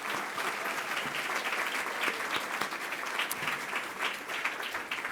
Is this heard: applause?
yes